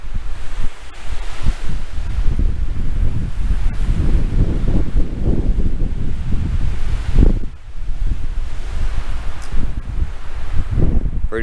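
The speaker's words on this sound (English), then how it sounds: "The wind in New Mexico." Strong, gusty wind roars steadily across open New Mexico country near wildfires, buffeting the microphone with loud rumbling surges and a brief lull before rising again.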